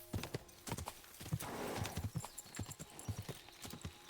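A horse's hooves clip-clop at a steady walk through a town in Kingdom Come: Deliverance 2, close and rhythmic, with a brief snort and faint background ambience between the footfalls.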